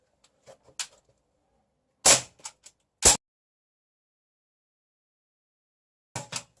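Airsoft pistols fire at a cheap action camera, sharp isolated snaps with plastic impacts, a few shots in quick pairs separated by silence, close and loud.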